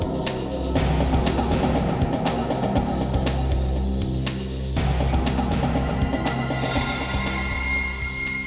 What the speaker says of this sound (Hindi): लिफ्ट में चारों तरफ अच्छी तरह से स्प्रे कर दे,